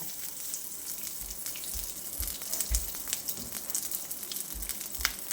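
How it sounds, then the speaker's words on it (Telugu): Garlic frying in oil for a Karnataka-style vegetable sagu, a steady close sizzle with crackling pops and soft bubbling that continue without a break throughout. "వెల్లిపాయలు కొంచెం దీంట్లో నూనెలోనే మగ్గిపోతుంది. వేగుతా ఉన్నాయి నూనెలో."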